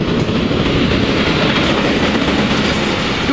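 An Indian Railways WAG-7 electric locomotive hauls freight container wagons near Jabalpur, giving a loud, close, continuous rumble with rhythmic clickety-clack of wheels over rail joints and no voices.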